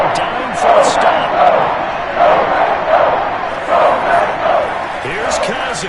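A dense football stadium crowd at a Packers–Vikings game roars continuously on a third down, surging in loud rhythmic waves, with an announcer's voice blended into the din.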